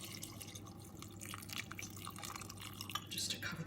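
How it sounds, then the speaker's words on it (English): Tap water runs steadily into a soup pot of vegetables on the stove, a continuous splashing and trickling with a constant low hum underneath. "I'm going to add just some tap water now,"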